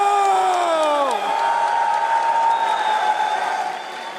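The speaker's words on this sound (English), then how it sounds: "hearing all those cheers out there from their fans" Arena crowd at The International Dota 2 tournament cheering and applauding for Heroic, a dense, sustained roar with whoops lasting throughout, while a rising and falling tonal sweep cuts across it near the start.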